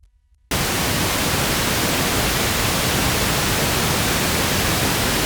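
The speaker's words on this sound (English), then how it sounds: "Yeah, it does pink noise too." After a brief silence, constant pink noise from a 1U synthesizer module switches on abruptly and holds steady, a full rushing hiss with a softer, deeper tone than pure static.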